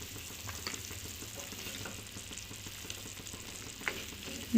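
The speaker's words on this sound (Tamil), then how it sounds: "ஓகே, கொதிக்க ஆரம்பிச்சிருச்சு, நல்லா கொதிச்சிருச்சு." Tomato soup bubbling in a pot on the stove, a steady low crackle of popping bubbles and simmering throughout, close and moderately quiet, with a brief louder knock at the very end.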